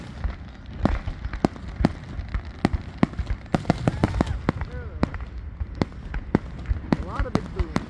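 Fourth of July fireworks go off in rapid succession outdoors, sharp cracks and deep booms overlapping with crackling bursts and whistles, some near and loud, with voices faintly in the background.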